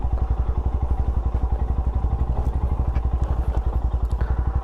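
Motorcycle engine descending a steep mountain road from Ela Veezha Poonchira toward Munnar: a loud, close, steady low thumping putter with rapid regular pulses, plus faint clatter over the top.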